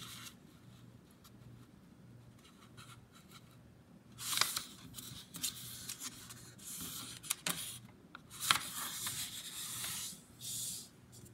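A paper template is folded in half and creased by hand, giving soft, close rustling and rubbing with a few sharper crinkles as the edges are lined up and pressed flat.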